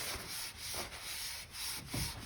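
A paint-soaked sock rubbed around a wooden spindle, giving soft, repeated rubbing and swishing strokes in a steady back-and-forth rhythm, close and fairly quiet.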